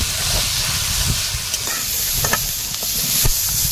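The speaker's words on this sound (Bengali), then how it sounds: "তেলের মধ্যে বেগুনটা দিলাম, এর মধ্যে একটু লবণ দেবো আর হলুদ দিয়ে ভেজে নেবো।" Eggplant frying in oil with salt and turmeric: dense, continuous close sizzle and hiss with a few soft stirring knocks, no talking.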